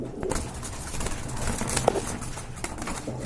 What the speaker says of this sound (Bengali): এখানে দেখতে পাচ্ছেন দুইটা কবুতর রয়েছে